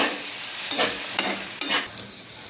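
Ridge gourd chutney (thecha) cooks in a pan on low gas, giving a steady soft sizzle broken by a few brief scraping stirs.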